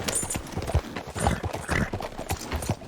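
Horse trotting in the video game Red Dead Redemption 2, a brisk irregular clip-clop of hooves, close and steady for a few seconds, with no talk over it.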